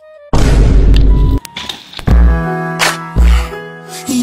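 A single loud, close boom from a gun in a staged hold-up, followed by a few more heavy thumps and ringing tones.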